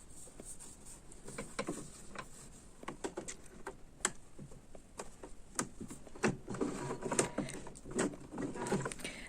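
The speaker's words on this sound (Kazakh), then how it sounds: "Енді мына айналасының барлығын бір тігіп өтеміз." A sewing machine stitches around a quilt block of cotton fabric, a soft, quiet run of rapid irregular clicks and taps, growing busier toward the end.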